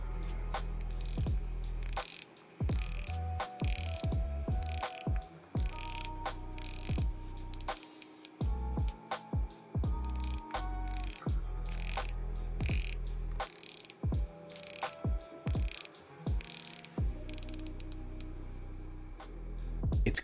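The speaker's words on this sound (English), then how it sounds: "just listen to this bezel action." Crisp ratcheting clicks from the rotating bezel of a San Martin SN019-G dive watch, a Submariner-style homage, turned in quick bursts of close, sharp clicks with short pauses between runs and no talking.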